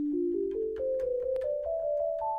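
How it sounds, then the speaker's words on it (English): A smooth, pure sine tone from the Obsidian synth in NanoStudio 2 on iPad steps upward through a series of pitches, clean and steady with soft clicks between notes. "So the sine wave sounds like this."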